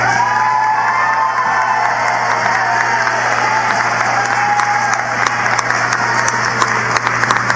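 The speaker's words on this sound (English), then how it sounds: "please stand and turn around and pick out those members of the audience, your family members, parents, and friends, and please applaud them" Sustained applause and cheering from a large commencement crowd at Penn State Wilkes-Barre, graduates clapping for their families, a dense steady wash of clapping with scattered whoops and shouts throughout.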